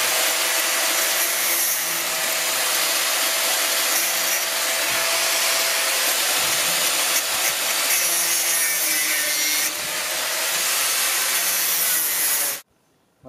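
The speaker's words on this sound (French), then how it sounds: "je vais découper le coffrage perdu que j'avais commencé à mettre" A power tool cuts through lost formwork for a bubble house, close and loud, in a continuous, rough, buzzing grind for about twelve seconds before it stops abruptly.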